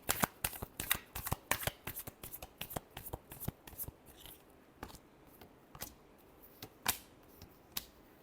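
Tarot cards are shuffled by hand, with dense rapid riffling clicks at first that thin out into scattered single card snaps, close and quiet with no talk.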